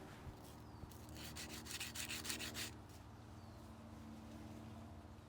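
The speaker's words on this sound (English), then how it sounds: "Now you're going to want to sand it down just to take the rough edges off and get it a little more flat." Sandpaper rubbing back and forth over the rough, hacksaw-cut edge of a Jeep door handle insert, a steady close scratching with a brief burst of quicker strokes, quiet and without talk.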